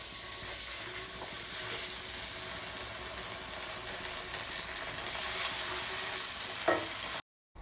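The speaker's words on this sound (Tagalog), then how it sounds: "kumukulo na yung ketchup" Ketchup bubbles and sizzles in a pan while buffalo wings are cooked, a dense steady frying hiss with a few brief clatters near the end before it cuts off.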